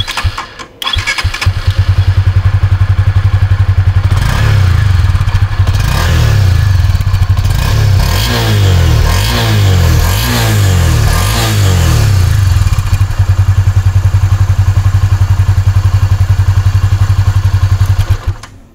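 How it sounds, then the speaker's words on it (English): Honda CB 300F street motorcycle with a stubby exhaust, started up close by, then idling and revved in several rising and falling throttle blips before settling back to a steady, throaty idle and cutting off; no talking. "let me fire the bike up and give you a listen to how it sounds"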